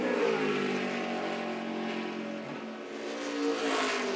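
A race car on a qualifying lap at Richmond roars at high revs, a sustained loud engine note that dips slightly and then swells again as it passes through the lap.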